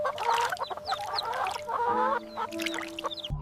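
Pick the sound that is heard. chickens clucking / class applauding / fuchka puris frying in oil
chickens clucking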